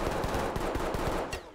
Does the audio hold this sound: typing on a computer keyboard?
no